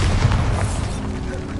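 Bombarda spell explosion in the video game Hogwarts Legacy: a loud, low, rumbling boom that fills the brief moment and then decays.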